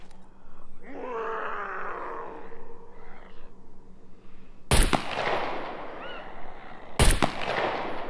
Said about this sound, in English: Let's get out the Kruger. I'm gonna have to shoot in the dark here.